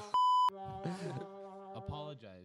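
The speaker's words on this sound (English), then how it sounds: "We gotta beep that." A censor beep cuts in as a single loud, steady electronic tone of about a third of a second, followed by people talking on a podcast.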